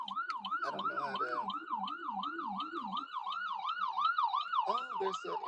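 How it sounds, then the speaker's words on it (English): An ambulance siren passes nearby with a steady rising and falling wail that repeats throughout, fairly loud and close, with brief clattering and a voice faintly in the background. "there's an ambulance coming by."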